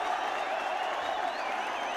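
Football crowd at a 1984 match responding to a referee's indirect free kick decision, a steady distant wash of cheering and applause across the stands.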